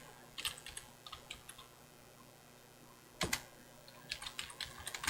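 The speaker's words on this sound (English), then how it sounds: "Can you see what I'm typing in there?" Computer keyboard typing in a quiet room: short bursts of light key clicks with pauses between, a denser flurry of keystrokes near the end, close and fairly faint.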